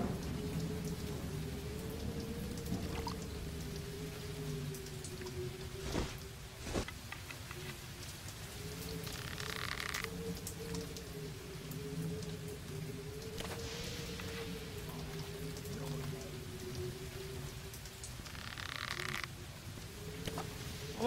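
Steady rain with a low rumble of thunder in a dark horror video game, a continuous wash throughout with croaking frog-like calls and a few sharp crackling bursts, no talk.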